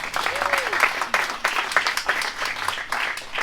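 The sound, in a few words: audience applause for a race winner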